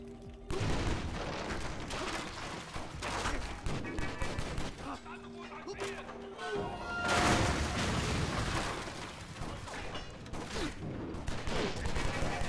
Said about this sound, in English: Enjoy explosions! This is an action movie!